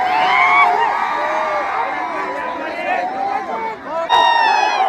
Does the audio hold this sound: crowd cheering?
yes